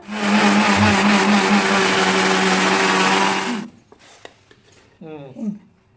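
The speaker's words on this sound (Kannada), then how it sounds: "ಈಗ ಇದನ್ನ ನೀರು ತೆಗೆದು ನಾ ಮಿಕ್ಸರ್ ಮಾಡ್ತೀನಿ." A mixer grinder whirs loudly and steadily for about three and a half seconds as it grinds soaked urad dal for vada batter, then cuts off, leaving brief clatter and a voice close by.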